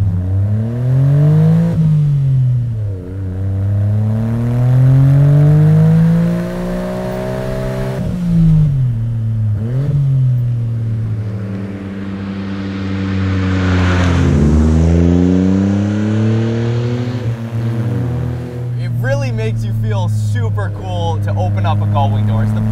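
Autozam AZ-1 kei car engine revving hard, several rising and falling sweeps as it accelerates and shifts, loud and close, with a person talking at times over it.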